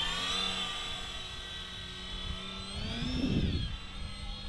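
A Tundra V3 RC airplane flies in low, its motor a steady high electric whine with harmonics that shifts in pitch and swells as it passes close by, with no talk.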